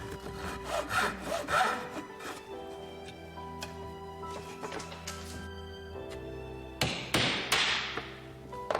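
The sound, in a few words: hand saw cutting wood diagonally for traditional furniture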